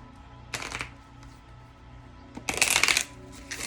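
Oracle and tarot cards, the Messenger Oracle and Light Seers Tarot decks, shuffled close by in two brisk riffling bursts separated by a quiet pause, with no talking.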